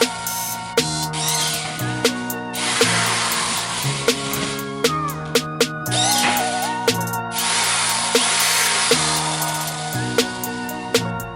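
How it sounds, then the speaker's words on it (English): A power drill with a 3/8 bit bores out holes on a 2019 Jeep JL tailgate, whining loudly in repeated bursts that rise and cut off, with short pauses between runs. "let's throw this drill bit in, let's finish boring these out"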